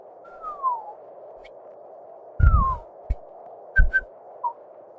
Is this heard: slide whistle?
yes